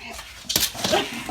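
A pet dog gives short whimpers and yips while playing indoors, close and fairly loud, with a brief burst of scuffling mid-clip and faint human vocal sounds around it.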